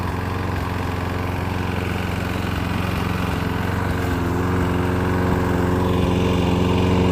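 A lawn mower engine runs steadily and loudly close by, its constant mid-pitched drone and harmonic hum unbroken, with no voices over it.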